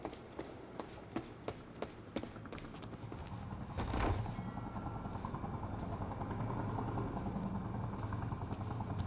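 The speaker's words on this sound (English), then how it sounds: "Better get inside before the chopper spots me." Helicopter in the video game Quantum Break, a steady whirring rotor drone that holds throughout, with scattered sharp game effects and thuds early on and a swell near the middle.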